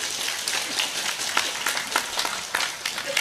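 Audience applause at an evening religious lecture event in Indonesia, a steady wash of clapping at moderate volume running the whole time without pause.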